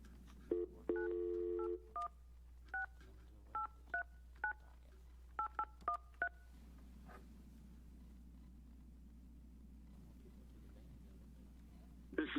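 A string of telephone keypad dialing tones as a court clerk calls a defendant: a short burst, then evenly spaced single beeps, followed by a quiet line hum with no answer.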